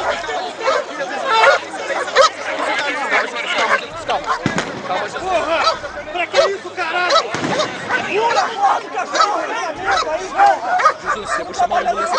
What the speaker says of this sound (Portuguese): ele aí é atacado por um cão pitbull da Polícia Militar